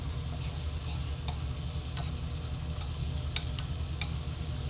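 Chopped mushrooms and shallots for duxelles sizzle steadily in a pan, a close, even frying hiss with a few light ticks and scrapes from stirring.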